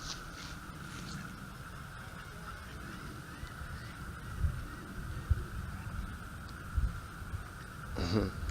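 Ducks calling at a lake, with a few short honking quacks near the end, over a steady outdoor background hum.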